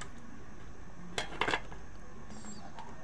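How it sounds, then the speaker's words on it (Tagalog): Boiled sweet potato set down on a plate, heard as a few faint clinks and scrapes of tableware clustered together in a quiet room, with no talk. "lalagay ko na siya sa plato para palamigin"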